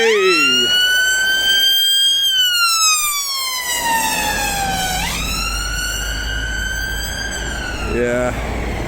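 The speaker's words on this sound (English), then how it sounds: "An ambulance." A loud ambulance siren wails nearby, rising and falling in long sweeps as it passes a roundabout in Stirling, Scotland, with traffic rumble underneath.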